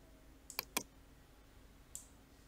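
Two quick, crisp computer mouse clicks close together, then a single fainter click a moment later, on a PC used for dual mining ETC and Zil with an RX570 4G card; no talking.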